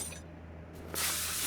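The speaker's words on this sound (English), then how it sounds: "Spray that bolt." Penetrating oil sprayed onto a bolt in Car Mechanic Simulator 2021, a short burst of broadband aerosol hiss that starts abruptly near the end and holds steady over a faint low hum.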